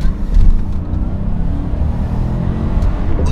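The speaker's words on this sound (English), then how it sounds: "How can such a big engine be so slow?" A big car engine drones in a steady, loud low rumble that holds throughout, with a slight swell in power near the start and no clear voices.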